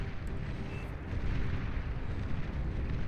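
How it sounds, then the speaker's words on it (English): Whistler artillery trucks fire away in a Beyond All Reason 8v8 deathmatch, a dense rumbling barrage of overlapping booms and blasts that swells slightly partway through, with no voice over it. "a bunch of these Whistler trucks that are firing away here"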